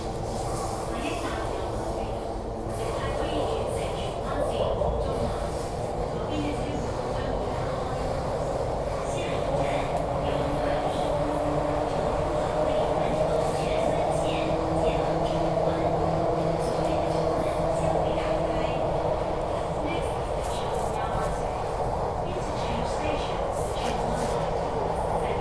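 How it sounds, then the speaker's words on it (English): Public-address announcements play inside a moving MTR Q-Train on Hong Kong's Kwun Tong Line, the voice carried over a steady low rumble of wheels and carriage noise. "Listen to the announcements."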